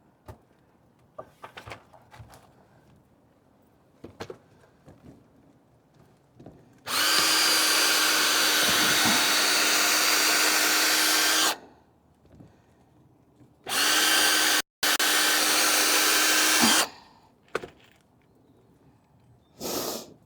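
A power drill bores holes in wood for a seedling storage rack, two long loud whirring bursts near the mic, then a shorter one briefly interrupted, amid quiet handling knocks.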